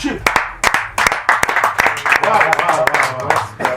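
An audience applauds a rapper with a handful of sharp, near claps, mixed with lively voices and cheering from a small crowd.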